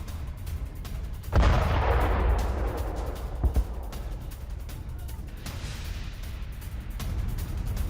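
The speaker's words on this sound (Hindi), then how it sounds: "तो लाचिश इलाके में ईरान ने मिसाइलें दागी" Missile strikes on the Lachish area hit with a sudden loud boom and rumble, followed by a couple of sharp thuds and a roaring, noisy aftermath, with no talk.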